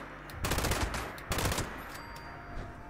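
An explosive light machine gun fires in Fallout 76, two loud rapid bursts of rattling automatic shots about a second apart with a short crackling tail, then quieter ambience.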